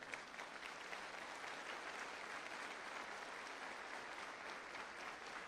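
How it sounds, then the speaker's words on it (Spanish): Church congregation applauding together, a steady, even wash of clapping that holds at the same level from start to finish with no voices over it. "¿Cuánto le da un aplauso al Señor?"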